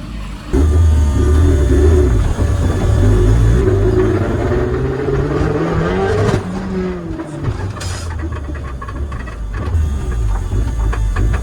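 A car engine runs steadily after turbo exhaust fabrication for an HKS GT2835R setup, a loud close rumble with a brief rev swell partway through, idling on its own without talk.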